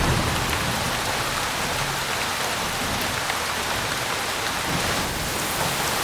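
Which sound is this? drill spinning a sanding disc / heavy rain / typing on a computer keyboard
heavy rain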